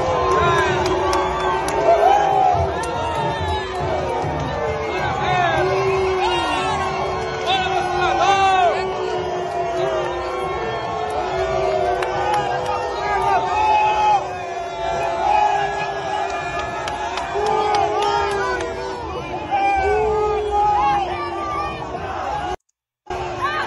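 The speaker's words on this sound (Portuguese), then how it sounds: "E o pessoal foi recebido com vaia" A large crowd booing and shouting at the 2 de Julho parade in Bahia, a loud, dense roar of many voices that rolls on steadily for the whole stretch, with a brief dropout near the end.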